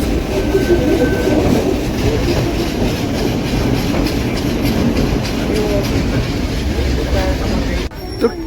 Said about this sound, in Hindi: तो ट्रेन अपने तीसरे स्टॉपेज हिल ग्रोव रेलवे स्टेशन पर आ चुकी है और यहाँ पर इसको रोका जा रहा है।